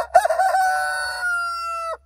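A farm rooster crows once among the chickens, loud and close, with one long drawn-out call that holds steady before breaking off abruptly, preceded by a brief scuffle.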